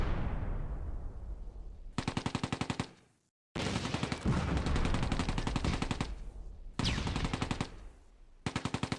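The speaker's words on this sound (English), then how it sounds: "constant machine gun fire from the tanks is causing casualties and suppressing my forces in the town" Tank machine guns rattle in Close Combat: A Bridge Too Far, with long sustained bursts and brief pauses, sharp rapid reports filling the battlefield over a town.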